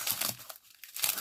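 Scissors cut through the plastic packaging of a diamond painting kit, with close, loud crinkling and crackling of film, a short gap midway, then more crinkling.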